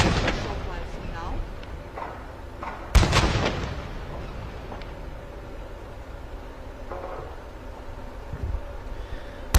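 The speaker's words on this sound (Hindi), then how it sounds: "Honorable President of India receiving 21 gun salute live on your screen." A naval ceremonial gun fires one round of a 21-gun salute for the President of India at a fleet review off Visakhapatnam, a single sharp boom with a rolling echo, heard over steady wind and sea noise.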